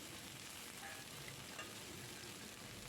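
Broccoli and potatoes stir-fry in a pan over low-to-medium gas, a soft continuous sizzle with occasional faint scrapes of the spatula, quiet and steady throughout.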